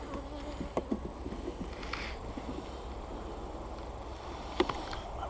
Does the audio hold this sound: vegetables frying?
no